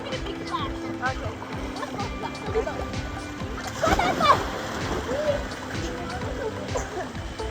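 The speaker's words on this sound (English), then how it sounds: "Let me get a big splash." A big splash into water at the bottom of a slide on Fitzroy Island, a sudden rush of splashing that rises midway through continuous sloshing and voices.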